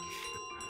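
Bell ringing inside Untitled Goose Game, a steady sustained ring with clear tonal overtones lasting under a second, fairly loud and alone without talk over it.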